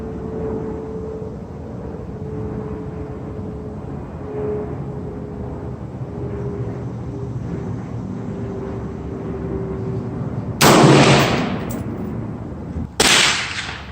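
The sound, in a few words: AR-10 6.5 Creedmoor rifle shot fired from bipod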